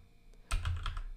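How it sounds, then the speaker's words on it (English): Quiet computer keyboard typing during WordPress web page work, a short burst of several quick close key clicks after a moment of near silence. "I'm just gonna type in,"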